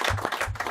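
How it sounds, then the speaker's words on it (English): Brief burst of audience clapping for artists at a TV pitch show, a quick patter of hands at moderate volume. "Give them a round of applause because they are fabulous bits of artwork"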